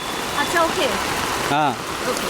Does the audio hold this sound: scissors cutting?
no